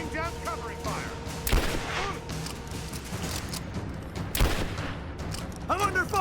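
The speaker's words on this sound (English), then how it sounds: "Laying down covering fire!" Gunfire bursts in a Rise of the Tomb Raider firefight, with two sharp loud shots standing out amid continuous rumbling battle noise, while voices talk over the action.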